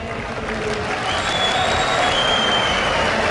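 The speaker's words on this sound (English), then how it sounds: "They cheer when I speak in English or when he speaks in Polish." A large esports arena crowd at the League of Legends grand final, IEM Katowice 2013, cheering and applauding, a steady dense roar of claps and voices with no pauses, loud and close.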